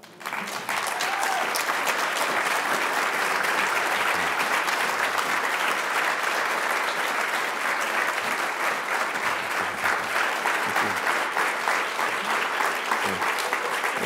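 A lecture audience at the E.F. Schumacher Lectures breaks into sustained, dense applause, a steady roar of many hands clapping that carries on for over ten seconds without fading.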